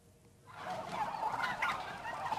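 Turkeys gobbling on a farm ahead of the Christmas market, a dense, fairly faint chorus of overlapping gobbles from many birds that swells in after a quiet start, with no talking.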